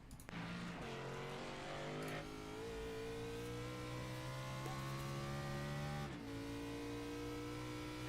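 A race car engine on a qualifying lap at Rockingham Speedway, a steeply banked one-mile oval, in a racing sim, holds a steady high-pitched drone with brief shifts in pitch, loud and continuous throughout.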